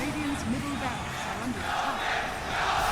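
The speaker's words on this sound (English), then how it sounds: "as you can hear, the crowd understandably very impressed" A large crowd roars and cheers continuously in a big arena at The International 2016 Dota 2 match, loud and sustained, with an excited commentator voice partly audible over the din.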